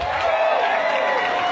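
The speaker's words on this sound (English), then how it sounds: "Clap your hands." Audience at a podcast roast battle applauds and cheers in a steady crowd roar with a sustained whoop riding over it, loud and continuous throughout.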